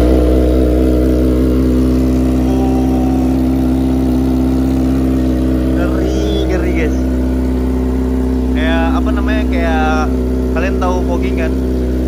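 Modified Kawasaki Ninja ZX25R motorcycle with an aftermarket exhaust idling loudly and steadily nearby, with people talking over it in the second half.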